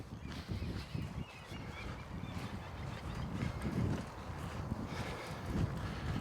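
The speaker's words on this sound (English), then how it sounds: "Boy, it's windy back here." Wind blows steadily behind a train museum in Riihimäki, Finland, heard as a continuous rumbling gusty noise that swells and fades at moderate level throughout.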